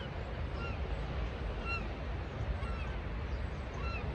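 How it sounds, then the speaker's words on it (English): Oystercatchers and other shorebirds call at the shore in the morning, their thin piping cries repeating over a steady wash of wind and surf, with no speech. "I'm just listening to all of the oyster catchers and the rest of the birds there up."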